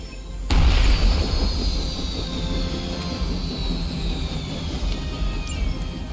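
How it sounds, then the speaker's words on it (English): A helicopter being brought down in the Midnight Suns video game: a sudden loud boom and crash, then a sustained roaring rumble with a long descending whine fading over several seconds, with no talk. "You've grounded the helicopter."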